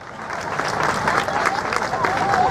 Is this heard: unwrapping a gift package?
no